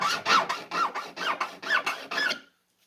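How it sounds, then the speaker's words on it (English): Rhythmic rasping strokes of 80-grit sandpaper rubbing on plastic of a quarter-scale Lamborghini Countach model, about eight quick back-and-forth passes, close and fairly quiet, then silence. "sanding out the plastic"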